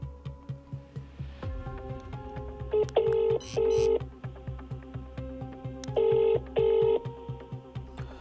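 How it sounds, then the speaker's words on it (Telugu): A telephone call is dialed and rings out: a run of keypad tones, then repeated ringback tones in evenly spaced pairs over a quiet background hum, heard close and clear. "మనం ఒకసారి కాల్ చేసి ప్రాబ్లం ఏముందో చూద్దాము."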